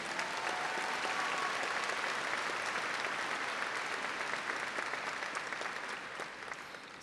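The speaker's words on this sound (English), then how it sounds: "Let's give them one more round of applause, please." Sustained applause from a large crowd at a high school graduation ceremony, a dense, even roar of clapping that fills the space and fades slightly toward the end, with a faint tone briefly audible early on.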